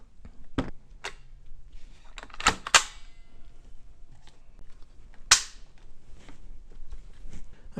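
A G&G Predator airsoft AEG rifle is put back together, with several sharp clicks and snaps of parts seating, spaced irregularly against a quiet room.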